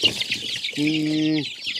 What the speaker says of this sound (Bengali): একটা মুরগির বাচ্চা এখানে আছে আমি একটু দেখাই আপনাদের